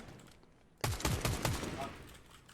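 Gunfire in a Fortnite Battle Royale match: a burst of rapid shots starts abruptly after a quiet moment and fires in a quick rhythmic run, loud and close, with faint game ambience before it.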